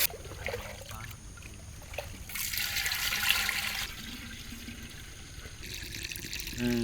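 Water is poured while a large South Indian vegetarian thali is cooked, a steady splashing stream that swells into a louder, fuller rush midway before easing back.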